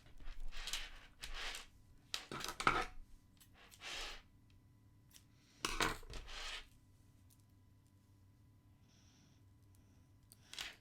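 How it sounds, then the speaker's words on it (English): Scissors snip off the thread of a beading needle on a kandi cuff, with several short crisp bursts of handling and cutting clicks spaced apart against quiet close by. A faint sound follows late in the clip. "I'm going to cut off the needle and then I'm going to tie it"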